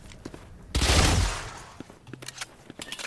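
Spectre submachine gun from Valorant firing one loud, dense burst that trails off over about half a second, followed by quieter scattered clicks and small impacts.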